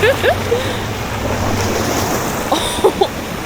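Water waves splash and wash nearby with a loud, wind-buffeted rush, while a voice briefly exclaims in short bursts over it.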